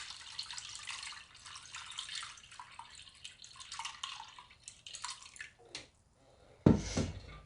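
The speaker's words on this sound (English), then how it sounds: "just pour it into the strainer that is over a container" Homemade chicken broth poured from a pot into a strainer set over a container, a steady splashing stream that fades, then a brief louder gush near the end; no talking.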